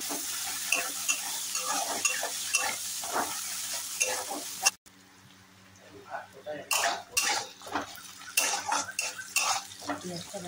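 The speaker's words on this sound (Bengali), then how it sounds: "এবার কড়াইতে তেলে পেঁয়াজটা" Onion frying in oil in a wok gives a bright close sizzle with clinks and scrapes of a utensil; midway it drops nearly silent, then stirring knocks and metal clatter resume, with faint sounds resembling a voice or cough.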